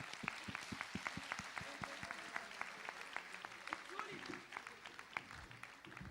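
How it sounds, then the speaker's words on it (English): Audience applause at a school senior annual day rises as sparse, distinct claps from a modest crowd, steady throughout and fading slightly near the end, with a voice heard over it. "Can we have another big round of applause for them?"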